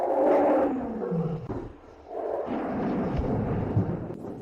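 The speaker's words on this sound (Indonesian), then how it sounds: "Serigala angin kencang, antarkan si jenius besar Xiao ke alam baka" A summoned wind wolf from a fantasy tale lets out a loud, sustained roar, rumbling and swelling, dipping briefly, then surging again without any voices.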